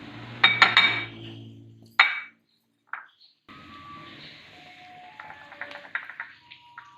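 Dishes and a serving spoon clink sharply a few times as Makhandi halwa is dished out, followed by a quieter stretch of faint scraping and light utensil taps.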